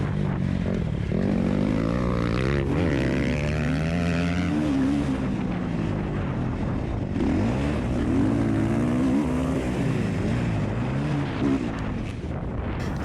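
Motocross dirt bikes race over the finish line at Muddy Waters MX, a close, loud, steady engine roar with revving and gear changes, heard from on board a bike throughout.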